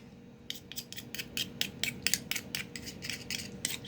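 A blade scrapes steadily around the inside of a bay scallop shell, freeing the meat in a quick run of short, crisp rasps, close and fairly quiet, with no talking.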